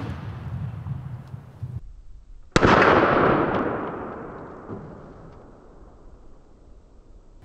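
A single sharp gunshot fired at a target of drywall layers backed by wood, loud and close, with a long decaying echo after it, following a low rumble of background noise; no talking.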